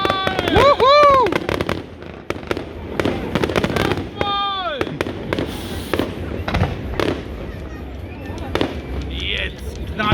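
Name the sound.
fireworks exploding at island festival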